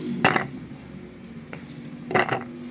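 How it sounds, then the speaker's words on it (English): Chopped carrots dropped into a grinder, heard as a few sharp clattering clinks of pieces striking a hard container, one cluster early, a faint tap midway and another double clatter near the end, with quiet room tone between. "So first we have to put in our chopped carrots into our grinder."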